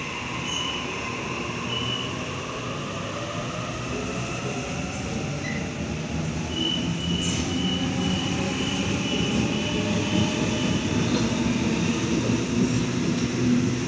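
A commuter train at Killara station platform rumbles and hums steadily for the whole stretch, with faint squeals and clatter from the wheels. No voices are heard over it.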